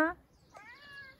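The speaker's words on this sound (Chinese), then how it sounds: "这个猫一直在狂叫" A hungry cat meows at home on arrival, one long plaintive mew rising then holding, faint and close, following a brief louder sound at the start.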